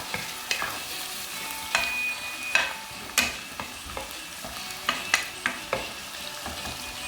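Beef tongue in tomato sauce is stir-fried dry in a pan, a low sizzle punctuated by sharp, repeated scraping strokes of a utensil against the pan, roughly one every half second to second.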